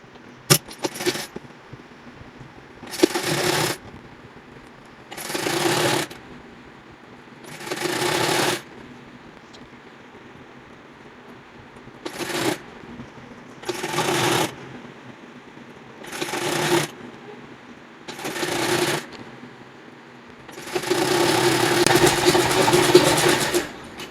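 A sewing machine stitches the folded neck strip of a plain kurta in roughly nine short bursts of running, each a few seconds long, with quiet pauses between, ending in a longer run.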